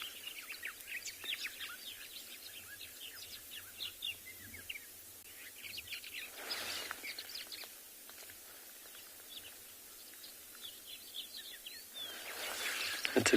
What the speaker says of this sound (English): there's a few other bird calls that are singing that we don't actually hear further out west